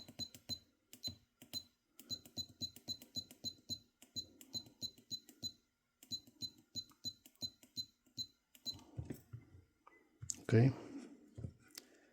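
Menu buttons on a GX591 spot welder click in quick, regular bursts close by, pausing between runs, followed by a louder handling thump near the end.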